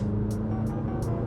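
A 2017 McLaren 570S with its 562-horsepower engine pulling hard under acceleration, heard from inside the cabin as a steady, loud, low drone with faint repeating high bursts, no one speaking.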